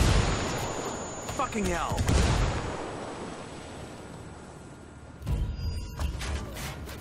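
In the video game Ghost Recon Wildlands, a frag grenade goes off with a heavy boom, followed by a rumbling tail and later another burst of blasts. A man swears briefly over the noise.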